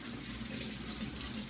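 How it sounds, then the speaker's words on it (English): Tap water runs steadily into a sink while peppers for a fermented salsa are washed, a continuous close hiss and splash with no talking. "Okay, we will wash the peppers."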